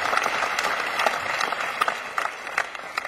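Audience clapping at a comedy show, a steady burst of applause at moderate loudness with individual sharp claps poking through the crowd noise.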